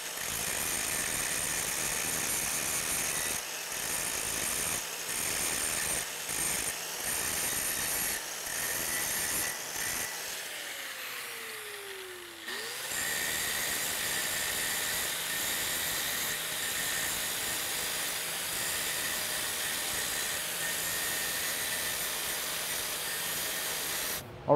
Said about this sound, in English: I'm basically gonna use my grinder and do this kind of motion